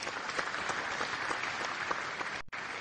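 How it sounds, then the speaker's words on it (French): Steady, dense applause from a ceremony audience honors an award winner at the Talents des cités opening event, holding evenly with one brief drop near the end. "on peut encore une fois l'applaudir"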